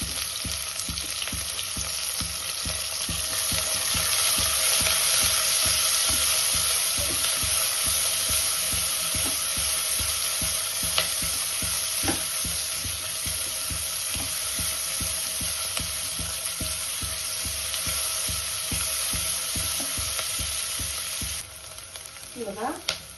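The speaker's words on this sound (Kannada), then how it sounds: "ಇವಾಗ ಎಣ್ಣೆ ಕಾದಾದ್ಮೇಲೆ ನಾನು ಈರುಳ್ಳಿನ ಆ್ಯಡ್ ಮಾಡ್ಕೊತಾ ಇದ್ದೀನಿ." Onions frying in hot oil for a chicken gravy, a steady loud sizzle that runs unbroken for the whole stretch, with regular stirring scrapes ticking through it and a brief clatter near the end.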